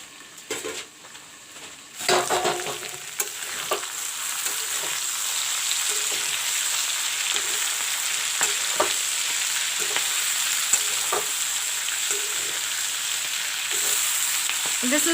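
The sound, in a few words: mixed vegetables frying and being stirred in a pan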